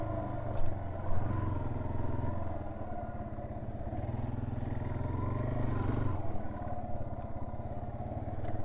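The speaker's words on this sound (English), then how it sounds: "I really do love this bike on the twist." A Yamaha TW200 motorcycle is ridden on the throttle, its steady engine drone and exhaust note continuous and close, with light clatter and wind over the top.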